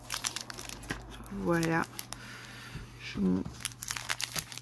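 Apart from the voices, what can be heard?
trading card booster packs being opened, wrapper crinkling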